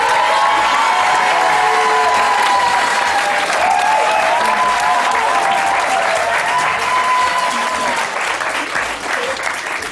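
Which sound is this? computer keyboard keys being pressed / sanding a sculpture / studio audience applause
studio audience applause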